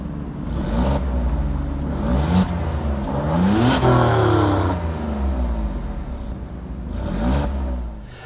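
A powerful Alfa Romeo Stelvio Quadrifoglio engine revs up and down close by, pitch climbing and falling several times as the SUV pulls away.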